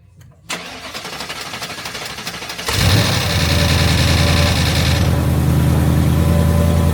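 A car engine started for the first time after a Dark Horse oil pump gear install: a short cranking whir, then the engine catches with a loud roar and settles into a steady, rough idle.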